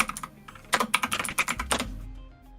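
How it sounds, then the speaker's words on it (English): Loud computer keyboard typing picked up close by a microphone, with a quick burst of crisp, uneven key clicks that stops abruptly, leaving a low hum. "your typing is coming across super loud"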